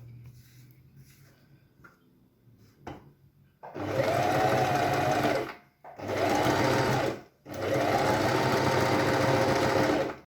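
A sewing machine stitches a fabric pencil case in three sustained motor bursts with brief pauses between them, loud and close, following a quieter stretch of light handling noise.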